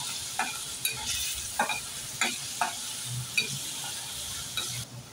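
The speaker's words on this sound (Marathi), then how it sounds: "जरा लसूण परतवून घेऊया तेलावर 2 मिनटं" Garlic cloves sautéing in oil for a crab curry, a soft continuous sizzle broken by repeated light clinks and scrapes of a stirring spoon against the pan.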